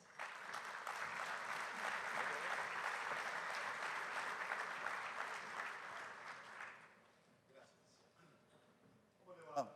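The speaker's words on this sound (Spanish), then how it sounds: "Los recibimos con un aplauso" An audience at a Pacto Global Argentina panel on employment and the circular economy welcomes the speakers with sustained, full clapping for about seven seconds. It then cuts off, leaving a quiet room with faint voices.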